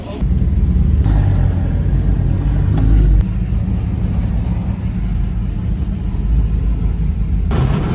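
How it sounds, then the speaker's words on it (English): A Chevrolet Camaro engine rumbles and revs loudly and close by, with a steady low growl that swells and eases across the stretch, and a brief surge near the start. "Cam's Camaro sounds amazing"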